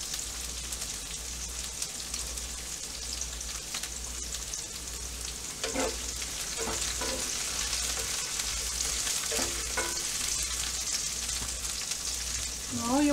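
Ginger frying in a cast iron pan for kung pao shrimp, a continuous hissing sizzle that grows slightly louder, with occasional stirring clicks and scrapes and a faint low hum underneath.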